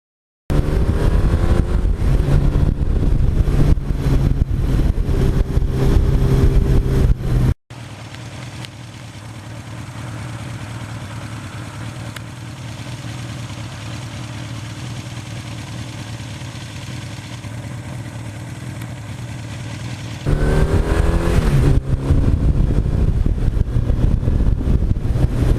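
A 1982 Suzuki GS1100E motorcycle engine runs loud and close, revving hard, then drops to a steadier, quieter idle for several seconds before revving up strongly again near the end.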